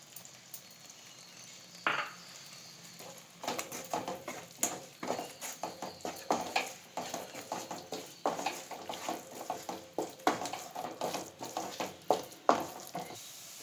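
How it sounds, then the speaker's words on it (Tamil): Oil sizzles in a pan as chili powder sautés for fish curry, while a utensil stirs and scrapes in irregular bursts, close and moderately loud. "மூணு டீஸ்பூன் குழம்பு மிளகாத்தூளை போட்டு எண்ணெயில் வதக்கிக்கோங்க"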